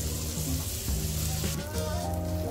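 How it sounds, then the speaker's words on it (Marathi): Bread buns for Kutchi dabeli roasting in butter on a hot griddle give a steady, soft sizzle, with a low hum and faint kitchen sounds beneath it. "तव्यावर बटर लावून घेतलं पाव भाजण्यासाठी।"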